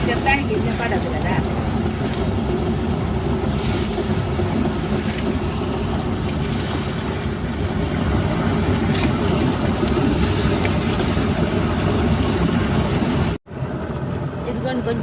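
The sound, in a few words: grinder grinding jowar grains for dosa batter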